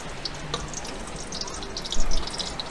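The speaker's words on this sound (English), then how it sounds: "So just frying in there now." Food deep-frying at a beach vendor's stall in Phu Quoc, Vietnam, gives a steady hiss and crackle of hot oil, with brief louder bursts of sizzling near the end.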